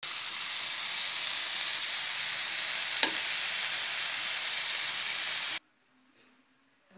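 Chicken tikka pieces sizzle steadily on a grill pan, a close, even frying hiss that continues for several seconds and then cuts off abruptly into near silence.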